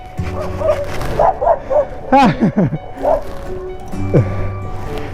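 A dog barks and yips in short bursts, close by, with a few whimpering cries over a low engine hum, heard on a bike ride.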